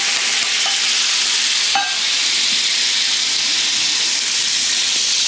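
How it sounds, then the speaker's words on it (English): Frozen bone broth hits a hot pan as it is deglazed and the browned bits are scraped loose: a steady, close sizzle and hiss with a few faint clicks from the utensil, and no talking. "keep deglazing the pan, scrape off all these good bits"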